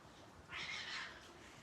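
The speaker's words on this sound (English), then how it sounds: "I don't know if you want to see a cat fight." Outdoors near a storm-swept shore, a cat lets out a single drawn-out yowl lasting under a second, faint and somewhat distant against a quiet background.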